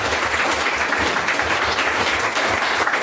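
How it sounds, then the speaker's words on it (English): Steady applause from a group fills the space, dense and continuous with no voices over it. "so I'm going to clap for Carrie as well"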